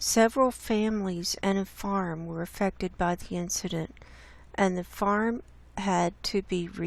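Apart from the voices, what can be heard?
No everyday noise stands out behind the speech.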